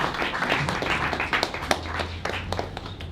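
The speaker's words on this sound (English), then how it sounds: "Keep it going for Edgar Garcia. Saved up all your claps for the end." Audience applause and clapping at the end of a poetry reading at a live poetry series, dense and steady throughout, heard up close and continuing without a break.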